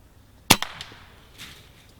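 A single sharp crack from an air rifle fired at a squirrel, close and abrupt, followed by a faint brief thud and quiet afterward.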